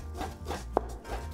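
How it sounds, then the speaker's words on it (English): A knife cuts a sole fillet into thin slices on a board, giving soft repeated rubbing strokes with one short sharp knock partway through, close and fairly quiet. "then cut the fish into thin slices"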